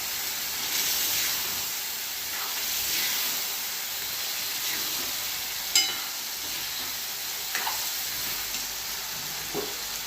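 Drumstick pods drop into hot, oily masala in a pan, setting off a steady close-up sizzle and hiss with occasional small crackles and stirring sounds.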